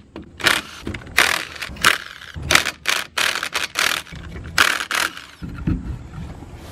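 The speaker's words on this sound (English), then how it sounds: "So now it's time to take this tire off" A tire being removed from a Ford truck in a shop, with a series of close metallic scrapes, clunks and rattling bursts in an uneven rhythm and no talking.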